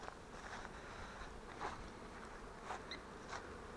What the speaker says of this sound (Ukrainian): Так, бджолки літають, тут обльотуються.